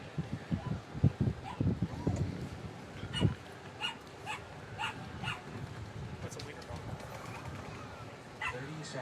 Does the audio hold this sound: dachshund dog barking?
yes